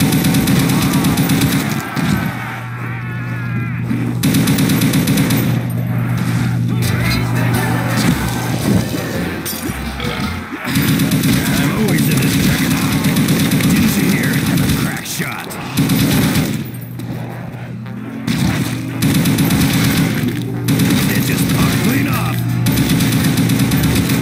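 Loud, nearly continuous automatic weapon fire from a Call of Duty: World at War zombies match, with rapid bursts broken by a few short pauses, over a steady droning game background.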